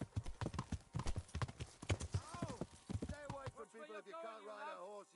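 Horse hooves clip-clopping in the medieval game Kingdom Come Deliverance, quick rhythmic hoof beats close by mixed with game voices talking, fading out as a voice continues alone at the end.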